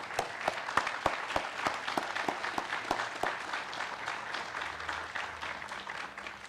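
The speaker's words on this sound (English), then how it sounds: "How about a nice round of applause for them?" Steady applause from an audience at a naturalization ceremony, many hands clapping in a dense continuous patter with some sharper nearby claps, moderately distant and soft, with no speech.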